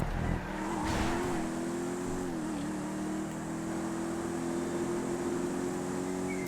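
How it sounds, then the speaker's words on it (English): Dominator car engines racing in GTA 5, a steady droning engine tone with slight pitch shifts as several cars run close together, continuous and moderately loud. "There's a train of 4 cars behind me."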